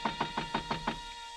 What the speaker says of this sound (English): so I got over to the door and knocked